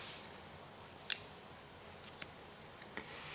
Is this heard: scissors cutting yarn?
yes